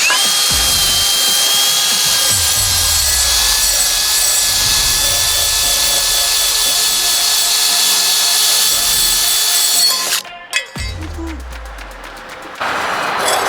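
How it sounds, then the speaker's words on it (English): Wire brush scrubbing rust off handmade steel roof rack brackets for a vintage Volkswagen Bug or Bus, a loud steady abrasive rasp running continuously for about ten seconds, then a brief pause and a rougher burst of scraping. "We're ready to wire brush them and paint them."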